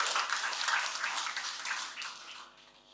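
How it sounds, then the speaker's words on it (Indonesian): Church congregation clapping together, a dense, fairly loud wash of hand claps that holds steady for most of the stretch, then thins and fades toward the end. "Beri tepuk tangan buat Tuhan kita"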